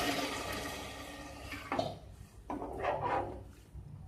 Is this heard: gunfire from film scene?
no